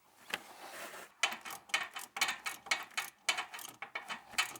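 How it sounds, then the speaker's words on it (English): Hose clamp being tightened on differential breather tubing of a Toyota Land Cruiser 100 Series, giving a close run of quick, uneven ratcheting clicks in short bursts with brief pauses, no talking. "slide the hose clamp down and tighten it up"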